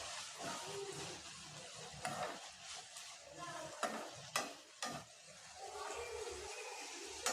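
Chopped onions and grated coconut fry in a pan for a Tamil country-chicken curry, with a steady close sizzle broken by several sharp scraping stirs.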